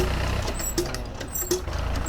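A tractor engine rumbles steadily nearby, with a couple of short hissing bursts over the low drone.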